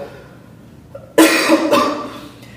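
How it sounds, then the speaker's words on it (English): A single close, sharp cough followed by a second rougher cough, brief and alone in a quiet room. "Yeah, I have a cough."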